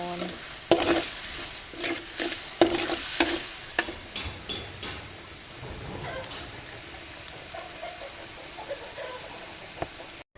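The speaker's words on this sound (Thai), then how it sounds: "ผัดมีโคราชนี่พี่น้องจะต้องขัวเครื่องแบบนี้ก่อนนะขัวหมูกับกระเทียมนะคะ" Pork belly and garlic sizzle in a pan as they are stir-fried for Thai Korat-style fried noodles, with a constant frying hiss and repeated scraping strokes of a spatula, loudest early on and easing toward the end.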